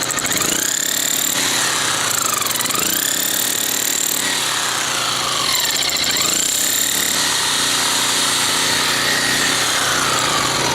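A jackhammer fitted with a small regular chisel bit chips into frozen ground, a loud continuous hammering rattle with the tool's engine droning throughout and several brief dips in pitch as pressure changes.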